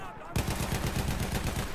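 Rapid automatic gunfire rattles in a dense, loud burst from enemies in the video game Battlefield 1, starting abruptly and running on as a fast, even stream of shots.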